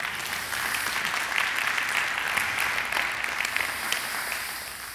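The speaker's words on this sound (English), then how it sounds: "That's worth a clap as well." A congregation applauds steadily for about five seconds, a dense wash of many hands clapping at a fairly close, even level with no speech over it.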